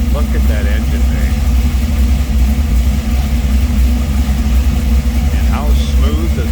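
A 1953 Chevrolet 210 Post with headers idles steadily, a smooth continuous low rumble filling the clip, with someone talking over it near the car.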